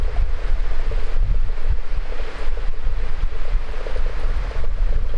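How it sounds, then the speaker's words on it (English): Strong wind roars steadily through a dark swamp, buffeting the microphone with loud low rumbling gusts that hold for the whole stretch, with no talking. "the wind's so strong"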